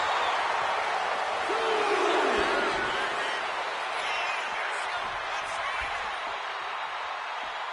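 Arena crowd cheering in WWE 2K26, a broad steady roar of many voices holding throughout, with a whoop rising early on and a commentator talking over it.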